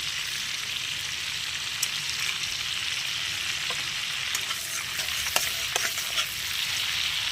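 Garam masala and other spices fry in melted butter for butter chicken, giving a steady close sizzle with a few sharp spoon clicks scattered through it.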